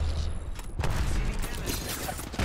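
A grenade explodes in the battle game Apex Legends, heavy booming blasts and rumbling impacts layered with crackling debris, loud and continuous across the moment.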